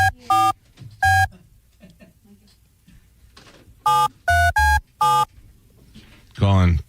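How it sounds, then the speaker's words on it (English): A telephone dials out in quick succession: short, bright keypad tones come in a pair, then a tight cluster of four, and the clip ends on a warbling electronic ring tone, all close and fairly loud. "I'm going to call him right now, okay?"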